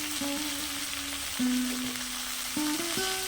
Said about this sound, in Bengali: নুন হলুদ দিয়ে সবজিগুলোকে দশ মিনিট মতো কষে নেব